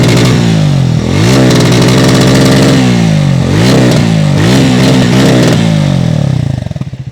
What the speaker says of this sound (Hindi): और ये है आइडल साउंड